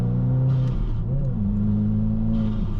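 A Subaru WRX tuned with a Cobb Accessport accelerates, its engine note rising steadily and loudly from inside the cabin, with a brief shift dip partway through before the pitch climbs again.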